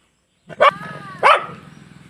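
A dog eats hungrily and growls to guard its food from another dog nearby: two sharp, close vocal bursts ride over a low, pulsing rumble that continues throughout.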